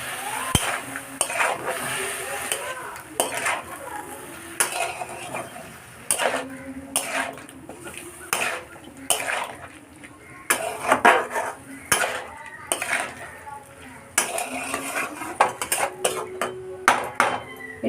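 Spoon scraping and clinking against a pot while spices are stirred with a splash of water, irregular metallic knocks and scrapes repeating close up over a steady background hiss.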